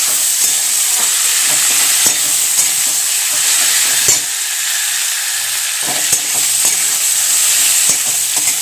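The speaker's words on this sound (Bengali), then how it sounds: "এবার টমেটোগুলো কিন্তু পেঁয়াজের সাথে ভালো করে ভেজে নেব" Tomatoes and onions sizzle steadily and loudly in a hot pan, with occasional scraping and stirring clicks from a utensil; no voices.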